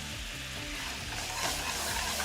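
Caramel mixed with creme fraiche bubbling and sizzling in a pan for glazed toffee apples, a steady close frying hiss with soft crackle throughout, no talking.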